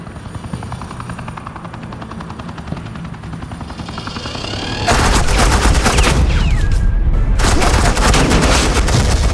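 Rapid automatic gunfire laying down suppressing fire in Telltale's Batman: The Enemy Within, a loud continuous rattle of shots over the thumping rotor of a helicopter.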